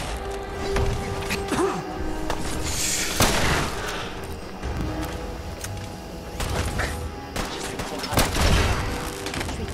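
Gunshots ring out in Fallout 4, a handful of sharp reports among ambient game noise, a couple of louder shots near the middle and end.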